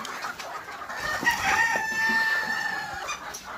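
Local egg-laying hens on a poultry farm cluck and cackle close by, with drawn-out calls over a busy flock background and no speech.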